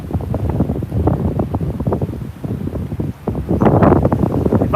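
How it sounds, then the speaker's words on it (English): Strong gusts of a wind storm at a fishing spot batter the microphone in heavy, uneven bursts of low rumbling buffeting. The noise swells louder toward the end. "There's a wind gust coming through."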